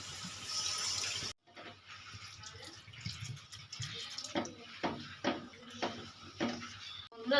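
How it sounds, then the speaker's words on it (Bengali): Water pours into a pan of prawn curry, an opening rush of flow that cuts off, followed by soft bubbling and clinking from the pan at low volume. "এবার দিয়ে দেবো পরিমাণ মতন জল"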